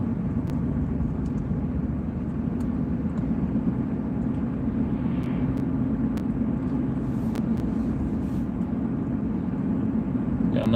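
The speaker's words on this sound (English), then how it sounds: "Got another car going around us." A car drives past close by, its steady low rumble and road noise running throughout with no voices.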